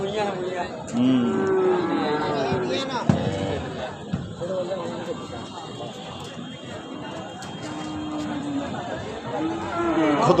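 Cattle at a livestock market in Parshuram, with occasional lowing rising over a dense, steady crowd of people chattering and calling out nearby.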